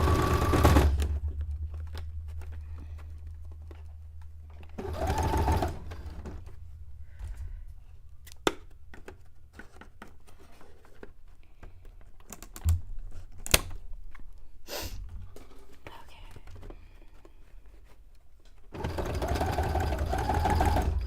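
A sewing machine stitches a miniature-townscape cone-shaped cape in short bursts at the start and the end, with quiet clicks and fabric handling between them.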